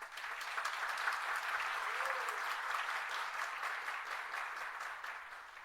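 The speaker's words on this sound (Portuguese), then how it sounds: "eu queria, inclusive, que vocês aplaudissem essa mulher" An audience at a parliamentary front meeting for community health agents bursts into sustained, even applause for a woman, a dense wash of many hands clapping that holds steady for several seconds and fades slightly at the end.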